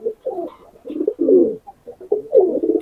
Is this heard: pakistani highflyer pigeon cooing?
yes